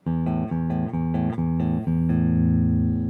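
Low, sustained bass guitar notes plucked on the 5th and 6th strings in a steady series of about five, each ringing strongly, the last held and swelling; no voices.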